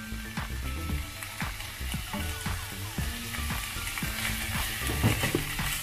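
A macaroni mixture with cheese is stirred in a frying pan, with repeated scraping strokes in an uneven rhythm over a constant close sizzle and no voices.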